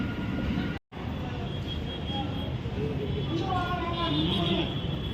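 Train rolling past railway underpass construction works, a steady broadband rumble with faint wheel squeal that holds for about five seconds after a brief cut, with a voice talking over it.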